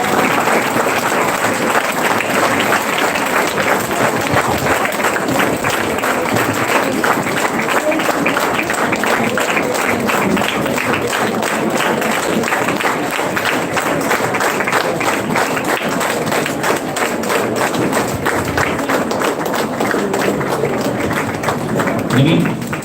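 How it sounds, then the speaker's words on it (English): Sustained crowd applause from students standing to welcome guests at a college inaugural function, dense steady clapping filling the hall for over twenty seconds with occasional thumps. "Please stand up and clap and welcome"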